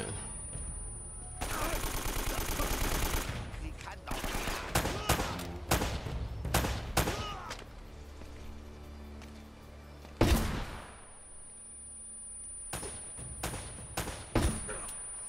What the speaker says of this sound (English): you're taking a lot of bullets right now